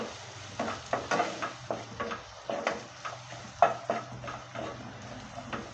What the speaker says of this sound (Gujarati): બધો જ મસાલો ટમેટા સાથે સારી રીતે મિક્સ કરી લેશું